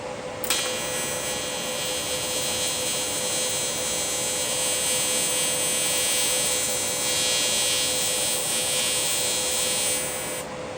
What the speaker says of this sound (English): bring it over to the TIG welder and weld this thing up